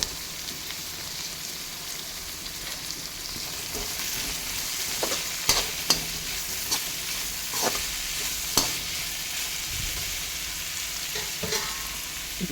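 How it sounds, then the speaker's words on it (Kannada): Onions frying with salt in a pan for mint rice, a steady close sizzle with occasional stirring clicks and scrapes, no voices. "ಇದಕ್ಕೆ ಉಪ್ಪು ಆ್ಯಡ್ ಮಾಡಿಕೊಂಡು ಫ್ರೈ ಮಾಡ್ತಾ ಇರಬೇಕು."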